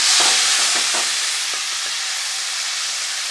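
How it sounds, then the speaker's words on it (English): Cherry tomatoes and garlic frying in a hot pan, a loud, bright sizzle with a few soft stirring knocks early on, easing slightly toward the end. "If you don't hear it frying, okay, the pan wasn't hot enough."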